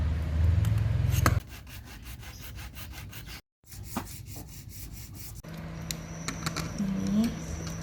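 A plastic ruler has a slot cut along its middle, a steady rasping saw-like scrape with a loud burst at the start and a brief gap partway through.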